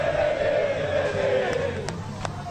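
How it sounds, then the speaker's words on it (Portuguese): A large crowd of Palmeiras football supporters roars in a steady, dense wall of chanting and cheering, with a few sharp whistles cutting through near the end. "E a torcida não para"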